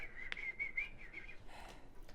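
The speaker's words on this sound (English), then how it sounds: "Ka begins to whistle like." A person whistles a steady, wavering tune for over a second, fairly faint, with some light background noise and a short break near the end.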